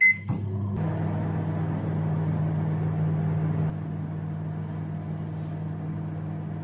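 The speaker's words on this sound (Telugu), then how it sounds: "మైక్రోవేవ్ క్లిక్ చేసి నైన్ హండ్రెడ్ వాట్ సెలెక్ట్ చేసుకుని ఎయిట్ మినిట్స్ టైం పెట్టి స్టార్ట్ చేసుకోవాలి" A microwave oven cooking rice at 900 watts hums at a steady low drone after a brief click at the start, its tone dropping slightly partway through.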